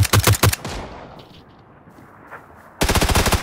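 In PUBG, rifle fire crackles in two rapid, loud bursts of closely spaced shots, split by a couple of seconds of quieter ambient noise, with no talking.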